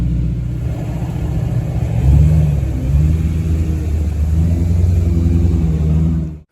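A BMW E92 M3 driving on city streets gives a steady, loud low engine rumble from inside the car, swelling briefly as it pulls away and then settling into a constant drone before cutting off at the end.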